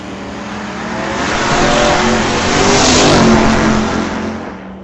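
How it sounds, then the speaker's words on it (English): A 1964 Dodge wagon and a 1956 Chevrolet roar down the strip side by side at an old-time drag race, engine noise swelling loud and close, peaking midway, then easing off as they pass. "The 1964 Dodge wagon, racing off against Norm Fleener in the 1956 Chev."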